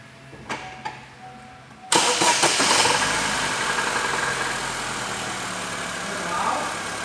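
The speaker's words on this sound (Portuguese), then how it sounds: "Olha o ruído que faz. Vou dar partida. Vou funcionar." Car engine starting and then idling, with a clutch noise being checked; a few quiet clicks, then the engine cranks and catches with a loud burst, settling into a steady close idle rumble.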